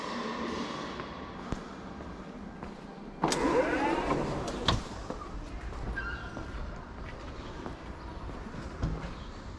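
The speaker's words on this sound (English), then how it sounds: "this little diesel rail car built in the 1950s" A 1950s diesel rail car runs at a low, steady rumble, with a motor whine rising at one point and scattered clunks and rattles from the carriage.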